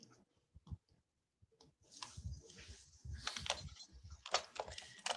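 Keys click on a computer keyboard as a word is typed, first a few sparse taps and then a quicker run of close, crisp clicks, with no talk.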